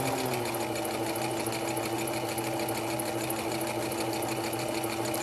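A sewing machine runs steadily for several seconds, stitching fleece fabric as it feeds the material through while making a neck warmer, its continuous motor whir and needle hum close and even throughout with no talking.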